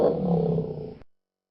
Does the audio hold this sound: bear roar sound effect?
yes